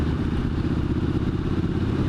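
Triumph Street Cup motorcycle engine droning steadily while riding, a dense, loud low rumble with constant wind-like roar and no talk.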